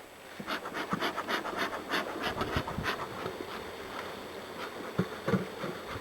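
Many honey bees buzz steadily up close at the front of a hive, a dense droning hum with individual bees passing by, and no talking.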